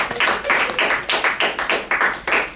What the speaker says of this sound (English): round of applause for our first round